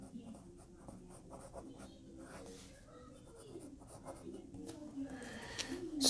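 A smooth-nibbed fountain pen, a Penbbs 492, scratches softly across paper in close, quiet strokes, with faint murmuring in the background.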